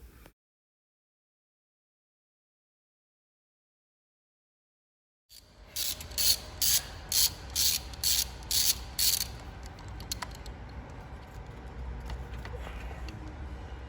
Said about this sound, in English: go right ahead and take out the Torx screws that are holding down the coil